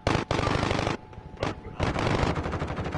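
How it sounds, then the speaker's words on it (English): Rapid bursts of automatic gunfire in an online shooter match, loud and close, with short gaps between volleys and a brief pause before the shooting resumes. "I hear gunshots so close to me"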